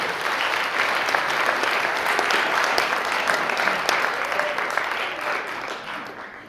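A crowd of new citizens and guests applauds at a naturalization ceremony, a dense, steady roar of clapping that holds strong throughout and fades slightly at the end.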